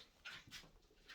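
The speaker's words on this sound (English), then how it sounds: "if you can hear the dog in the background walking" A dog whimpers and yips faintly in the background of a room, three short high-pitched bursts spread over about a second.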